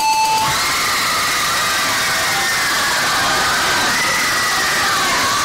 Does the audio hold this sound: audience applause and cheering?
yes